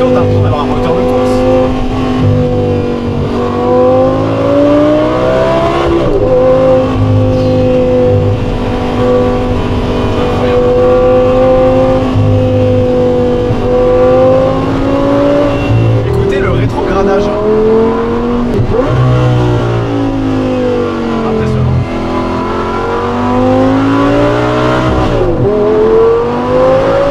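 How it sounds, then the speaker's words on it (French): Audi R8 V10 supercar engine revving high with rising and falling pitch sweeps, loud and sustained, with people talking over it inside the car. "quand tu es dans les tours, tu as l'impression d'avoir un moteur de course."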